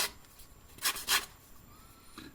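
A sanding sponge rubs the edges of lathe chuck jaws in two short, close scuffing strokes, then a fainter third.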